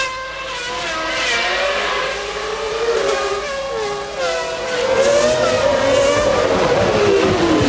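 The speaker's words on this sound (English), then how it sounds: "Feathering that throttle, trying to get about 700 horsepower to a very wet and slick racetrack" Formula One engine from the 1995 Japanese Grand Prix, its throttle feathered on a very wet, slick track, wails continuously with rising and falling pitch, loud and close throughout, with no talk.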